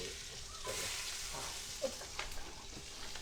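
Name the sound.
red chilies sauteing in a pan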